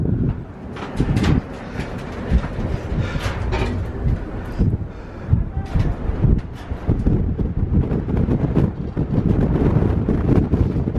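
Cold wind on the Appalachian Trail buffeting the microphone in loud, uneven gusts and rumbling blasts that continue through the whole stretch.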